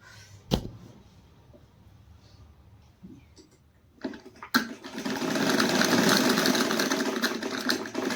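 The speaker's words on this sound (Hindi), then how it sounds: "ये देखो, इस तरीके से मैं सिलती हूँ, अपनी सिलाई करती हूँ।" A treadle sewing machine stitching at home, starting after a few clicks and thumps and running as a steady, fast mechanical whir and clatter that stays loud and close for several seconds.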